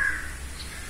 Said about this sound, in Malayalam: അയ്യോ കാക്ക.